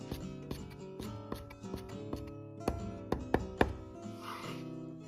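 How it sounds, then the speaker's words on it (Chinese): A knife chops drained garlic chive heads into short pieces on a cutting board, giving a handful of crisp, uneven taps that grow firmer toward the end, with no voices. "再把控干水分的韭菜头部稍微拍一下，然后再切成小段"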